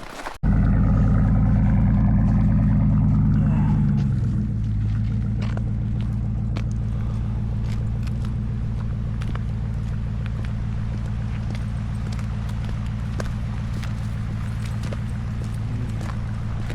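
A truck camper's engine on a winter night kicks in abruptly and settles into a loud, steady, droning rumble that drops to a lower, even tone after a few seconds and holds there without talk.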